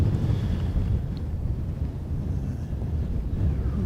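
Strong wind buffets an outdoor microphone on a hilltop mound, a loud, continuous low roar and rumble throughout with no talking.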